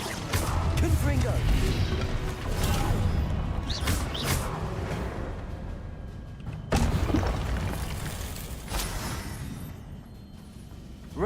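A Confringo blasting spell from Hogwarts Legacy, with several heavy booms and crashing impacts spread through a combat sequence, two sharp blasts standing out amid ongoing effects and occasional speech.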